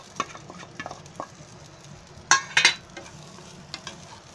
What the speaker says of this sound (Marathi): हे लसूण आणि मिरची आहे ना भाजायला ठेवले, जरा भाजू द्या।